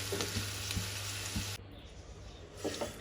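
Okra and potato curry cooks in a pot while being stirred, giving a steady close sizzle with a few soft spoon knocks, then a sudden drop to quieter bubbling after a second and a half, with no talking.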